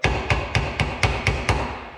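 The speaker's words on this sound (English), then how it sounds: "I'm going to get me a small hammer and just tap the top of this." Small hammer tapping the top of a windshield wiper arm on an F-body Camaro or Firebird, seven sharp metallic taps at a steady, quick rhythm, close and loud with no talk.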